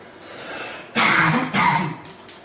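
Two harsh, close coughs in quick succession, each a short rough burst, against quiet room background.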